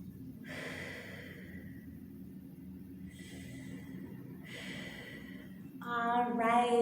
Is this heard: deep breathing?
yes